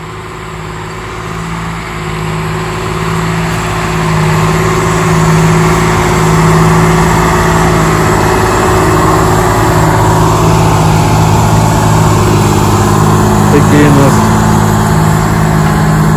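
A John Deere 8430 tractor pulls a Matris Hercul seven-shank deep ripper through a field at a slow working pace, its heavy engine droning steadily and loudly throughout with no break.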